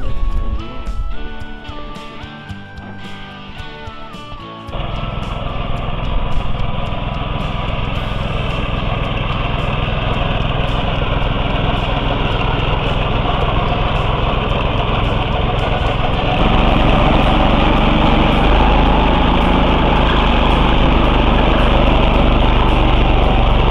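A walk-behind tractor engine turns over with uneven sputters, then catches and runs at a loud, steady roar that strengthens later on.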